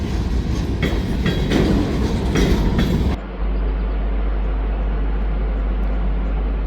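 Freight train rolling through a small Wisconsin town during flooding, a steady loud rumble with rhythmic clatter for about three seconds before the sound cuts to a quieter, even hum from a different vantage.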